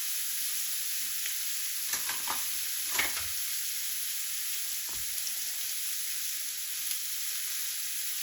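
Shrimp sizzle steadily in melted garlic butter in a pan, a constant bright hiss with a few soft scrapes and clicks from stirring scattered through, close and with no talking.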